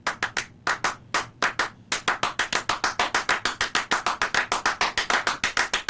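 Two people clap a piece built on one repeating rhythmic pattern: sharp, close hand claps start in uneven groups with gaps, then settle into a fast, continuous interlocking pulse.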